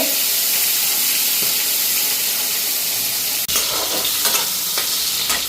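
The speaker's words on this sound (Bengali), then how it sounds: "এইদিকে মাছ আর বেগুনটা ফ্রাই করে নিচ্ছি" Fish and eggplant fry in a pan with a loud, close, continuous sizzle and hiss, broken only by one brief dip before the frying resumes, with no talking.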